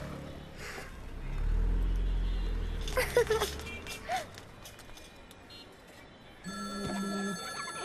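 A phone rings with a repeating electronic tone near the end, after a stretch of low rumbling background and brief bumps.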